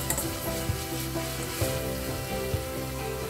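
Chopped onion sizzles steadily in a hot pan for a potato, fenugreek and green chilli dish, with a few soft knocks of a spoon stirring it, close and continuous without any talk.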